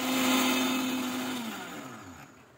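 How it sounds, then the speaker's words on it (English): Kitchen grinder milling fine white rice into flour: a loud, steady whirring motor that gradually winds down and fades over a couple of seconds, with no voices. "And now lastly, I'll be also grinding the rice."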